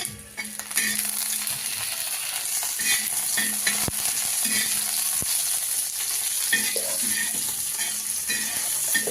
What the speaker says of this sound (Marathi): आता मिरच्या तळते चांगल्या मस्तपैकी